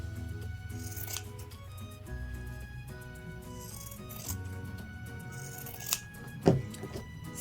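Close, quiet scissors trim the fabric seam allowance on a sewn overall top: repeated crisp snips and rustles of cloth, with a sharper cut near the end and no talking.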